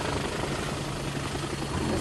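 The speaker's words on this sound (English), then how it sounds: "the helicopter's passing right behind me" A helicopter passing close behind on a fairly open road near a noisy lorry, a steady loud rotor thrum and engine roar filling the whole stretch without pause.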